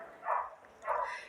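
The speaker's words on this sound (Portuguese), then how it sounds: "E também tem o cachorro latindo lá fora" A dog barks outside a home, two muffled, distant barks spaced apart, with children faintly audible in the background.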